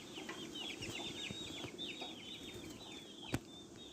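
Newly arrived hens cluck in a series of short, quick calls close by, with one sharp knock near the end and no talking.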